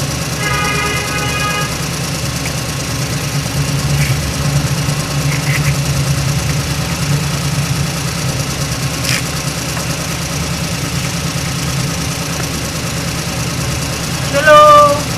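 A truck engine idles steadily throughout, a low continuous rumble with slight vibration, and a brief higher sound rises near the end.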